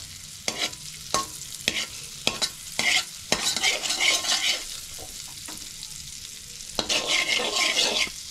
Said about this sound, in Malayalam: ബട്ടർ ഒന്ന് മെൽറ്റ് ആയിട്ട് വരട്ടെ.